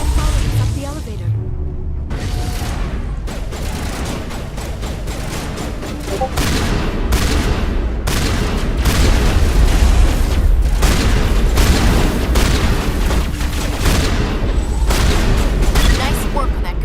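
Loud, dense gunfire and booming explosions from the Mass Effect video game, continuous bursts and blasts filling the whole stretch, with a character's voice speaking over the combat at points.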